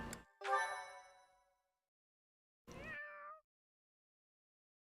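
A cat meows in the video game Fire Emblem: Three Houses, with a clear, ringing meow followed by a second, shorter rising meow, both close and prominent against silence.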